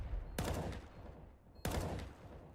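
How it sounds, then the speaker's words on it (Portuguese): Gunfire in a professional Counter-Strike match, two separate loud sharp shots about a second and a quarter apart, each with a short echoing tail over a low background rumble. "errou o tiro, Lucky."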